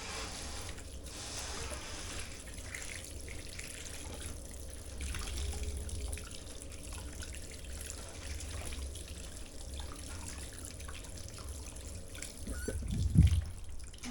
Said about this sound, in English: I'm going to wash my hands a bit.